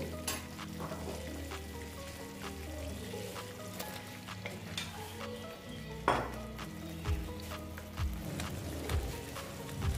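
Chicken pieces going into hot oil for Afghani chicken, a steady frying sizzle throughout with occasional stirring clinks and scrapes, close and moderately loud with no talking.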